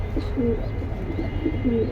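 A pair of pigeons coos in short repeated bursts, soft rolling calls recurring every half second or so, close and alone with no talk over them.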